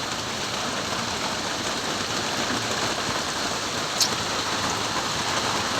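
Steady rain pours down in a constant hiss, with no voices, and a brief faint tap near the end.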